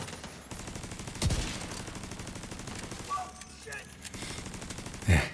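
Gunfire in a video game, a couple of punchy shots standing out over a steady dense background of game noise, with rapid fire hinted underneath.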